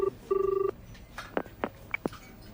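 A telephone rings with two short electronic trill bursts, followed by a few soft clicks and taps, in an office setting.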